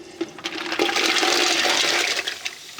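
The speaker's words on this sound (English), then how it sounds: "And we're going to pour in our mussels." Fresh mussels tumble into a pan of melted butter with a rushing, rattling clatter of shells that lasts a couple of seconds, close and fairly loud.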